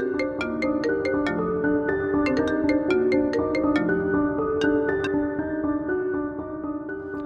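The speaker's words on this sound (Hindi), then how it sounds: "आपका फोन है।" A phone ringtone plays in a Pakistani TV drama, a loud, melodic electronic tune of repeating notes that sounds alone for several seconds before fading slightly.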